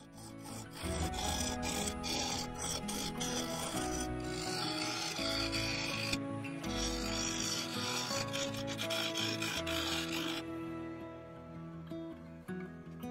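A standard cutter hollows a yew wood vase on a lathe, giving a steady, close, rough scraping and rasping drone with shifting gritty texture that runs continuously throughout.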